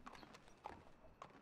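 Horse hooves clip-clop at a walking pace in the western open-world game Red Dead Redemption II, three soft, evenly spaced hoofbeats over quiet background ambience.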